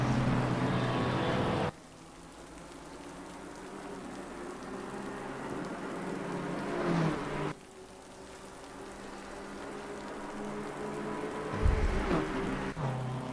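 Steady rain pours down at the Snetterton race track, a dense continuous hiss of drops on surfaces, loud and close, with brief low rumbles of passing cars and no talk.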